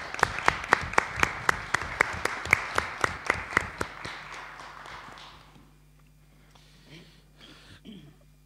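A municipal council meeting audience claps for newly appointed councillors, a brisk rhythmic round of applause that fades out after a few seconds, leaving a quiet room with faint shuffling.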